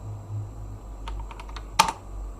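Scattered keystrokes on a computer keyboard, a few light taps followed by one louder, sharper press, with quiet hum between them.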